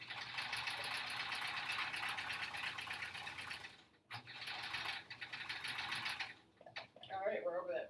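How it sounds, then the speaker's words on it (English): A sewing machine stitching quilt-as-you-go quilt blocks runs steadily up close with a rapid mechanical whirr, pauses briefly, resumes, then stops near the end amid a few soft handling sounds. "I'm just gonna start sewing and line it up after that."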